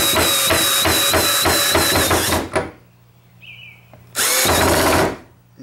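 A Milwaukee impact driver in low gear hammers a Phillips drywall screw into 3/4 inch maple, a loud rapid rattling burst for over two seconds, a brief pause, then a second loud burst, no talking.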